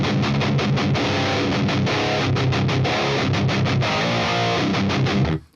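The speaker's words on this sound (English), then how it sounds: "To me, it doesn't really capture like a real dual rectifier sound." Heavily distorted electric guitar played through a Quad Cortex dual rectifier amp model, dense chugging riffs with rhythmic stops and gaps, loud and upfront before cutting off at the end.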